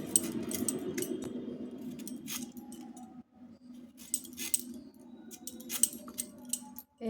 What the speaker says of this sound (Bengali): এখন এঁচোড়টা কেটে নিচ্ছি।